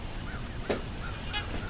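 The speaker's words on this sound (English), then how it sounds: "The birds are chirping away." Geese honk outdoors on a sunny day at Point Pelee National Park, a few calls at moderate distance over a steady windy, breezy background with no talking.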